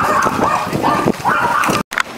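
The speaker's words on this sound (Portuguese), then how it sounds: "Cachorrada que gosta de ciclista noturno." Several street dogs bark and yelp at cyclists on a night bike ride in Vitória, Brazil, with repeated yips and whines over steady rolling and wind noise.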